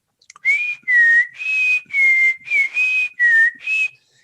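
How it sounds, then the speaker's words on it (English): A clear, loud melodic whistle from the opening of a song, eight sustained tones in a steady rhythm, close and alone with no talking. "They had this whistle on there at the beginning."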